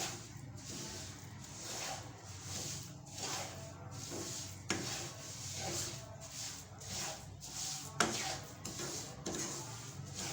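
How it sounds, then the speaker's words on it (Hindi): A spoon scrapes and stirs panjiri as it roasts in a pan, a continuous rhythmic scraping with soft repeated strokes and occasional sharper knocks against the pan, close and moderately quiet. "इसमें भी हम मसलसल चम्मच हिलाएंगे"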